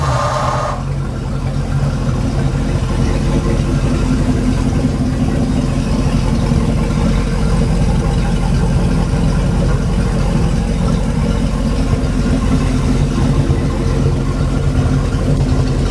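A mid-2000s 5.0 Mercruiser marine engine runs on a pallet, giving a loud, steady, low idle rumble close by with a fast even exhaust pulse throughout and no talk.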